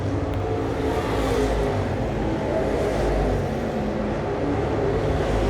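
Dirt late model race cars from a crate touring series run around a dirt oval in a feature race, a steady low engine roar that hangs on continuously without a clear pass-by, heard from the stands with no talk.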